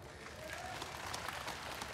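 Applause from an audience at a Korean pumba (품바) folk festival performance, a steady wash of hand claps filling the whole stretch at moderate loudness with faint crowd murmur underneath.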